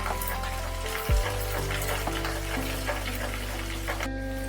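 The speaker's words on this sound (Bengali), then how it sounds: "এবার এটাকে একটু তেলের মধ্যে নাড়িয়ে চাড়িয়ে নিতে" Ginger and chilli stirred in hot oil give a steady close sizzle with a single brief knock of the utensil early on, over a low constant hum.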